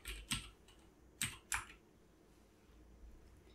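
Typing on a keyboard: a few sparse, crisp key clicks, three distinct taps close by with quiet pauses between them and no voices.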